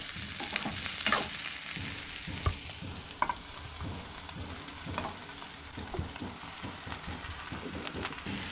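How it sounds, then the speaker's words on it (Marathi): Soya chunks roasting in a pan with onion, garlic, ginger and chilies, with a soft continuous sizzle broken by repeated scraping and stirring taps of a spoon, fairly quiet and without speech. "तर सोय बी न्हय हांगसर भाजून घेवंक जाय"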